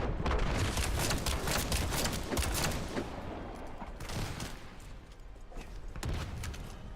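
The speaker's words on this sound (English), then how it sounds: "just repeated headshots with the hand cannon really seem to be doing the trick" Hand cannon gunfire in The First Descendant, a free RPG shooter: dense, loud bursts of repeated shots with booming impacts filling the whole stretch, no voice over it.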